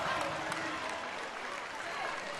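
NC State fans at a women's basketball game at UNC cheer and applaud after Marissa Kastanek's three-pointer, a dense, steady roar of crowd noise and clapping that holds loud through the whole moment.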